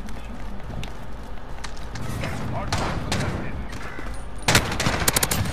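Gunfire in a video game shooter, with bursts of shots and a louder rapid volley near the end over a busy, noisy background.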